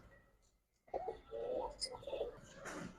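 Giribaz pigeons cooing in a soft, murmuring run of low coos, fairly faint and close, with a quiet pause before the calls begin.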